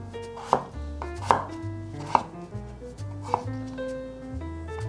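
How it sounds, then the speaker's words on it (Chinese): A knife slices through a peeled potato on a cutting board, four or five distinct crisp chops at an irregular, unhurried pace, close and clear with quiet pauses between strokes and no voices. "把马铃薯切一半。 接着切片"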